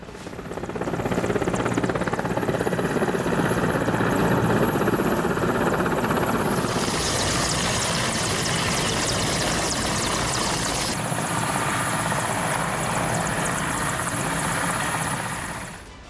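Military helicopters in an Iranian army exercise over the sea near the Strait of Hormuz: a loud, continuous rotor roar and turbine whine for the whole stretch, steady and close, shifting slightly partway through, with no voices.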